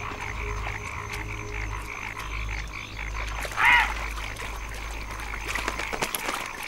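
Frogs croak in a wild wetland in Indochina, a continuous layered chorus of throbbing calls with one louder, closer croak near the middle, steady and outdoors with no speech over it.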